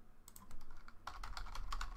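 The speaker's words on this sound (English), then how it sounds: "just type ungroup and hit enter" Quick bursts of keystrokes on a computer keyboard while entering a command in AutoCAD Architecture, a close run of crisp clicks that grows denser and louder in the second half, no talking.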